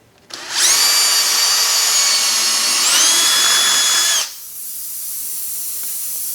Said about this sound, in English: So let's just drill through here and release the nitrogen.